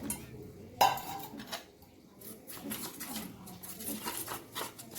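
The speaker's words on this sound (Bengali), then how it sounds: "এর আগে আমি এই কর্নফ্লাওয়ারটা গুলে নিচ্ছি একটু জল দিয়ে" Cornflour being mixed with water in a bowl for Bengali vegetable chops, heard as a sharp utensil knock followed by soft, irregular clinks and scraping stirring sounds close by, with no talking.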